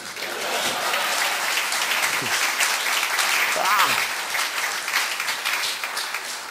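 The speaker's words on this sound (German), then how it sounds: "danke für den spontanen Applaus" An audience claps for a juggler's trick at a small live show, a dense and steady round of applause sustained for several seconds, with voices rising briefly over it.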